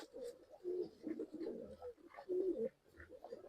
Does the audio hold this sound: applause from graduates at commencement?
no